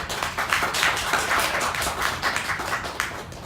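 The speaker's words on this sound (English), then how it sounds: "let's have another round of applause" A round of applause from an audience at a presentation event, dense and steady clapping from a crowd for the whole stretch, moderately loud with no talking over it.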